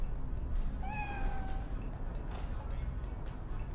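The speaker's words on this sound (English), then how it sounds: "Keep thinking that's my cat yowling." A house cat gives a single short meow, heard faintly over constant background noise from a Cyberpunk 2077 game stream.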